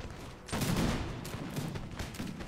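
A massed musket volley from Prussian fusiliers in a Napoleon: Total War battle erupts as a loud, crackling burst, followed by sustained rolling gunfire with scattered sharper shots.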